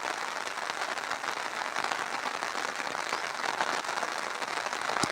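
Heavy, unbroken rain pours down during a Tamil Nadu downpour, a steady dense hiss and patter filling the whole stretch evenly with no voices over it.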